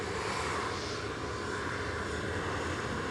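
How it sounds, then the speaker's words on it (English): Steady broadband roar of an EasyJet airliner arriving to land at Manchester Airport, continuous and fairly distant with no distinct peaks, heard alone without talk. "So we've just got an EasyJet to come in"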